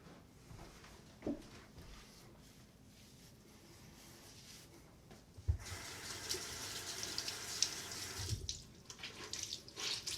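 Tap water runs into a sink for rinsing after a shave with a Gillette razor and Barrister and Mann soap, a quiet steady flow that swells louder partway through with a few splashes and clunks.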